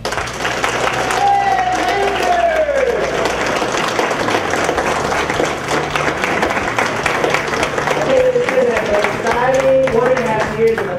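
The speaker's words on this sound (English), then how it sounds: "now let's give our managers and operators a standing round of applause" A corporate managers' meeting crowd claps in a standing ovation for managers and operators, with dense continuous applause and cheering voices over music. A loud voice talks across the clapping.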